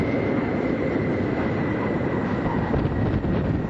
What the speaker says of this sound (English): Discovery is rolling out at sunset on runway 15 at the Kennedy Space Center